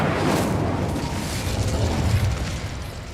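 An Incendio fire spell cast in Hogwarts Legacy, a loud, dense whooshing roar of flame with a burst at the start, continuous for about three seconds with no talk.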